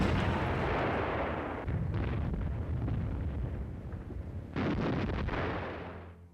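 A heavy artillery barrage as a sound effect, a dense continuous roar of booms and rumbling with two sudden louder surges of blasts, loud and close, fading out at the end.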